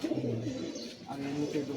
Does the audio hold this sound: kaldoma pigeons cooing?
yes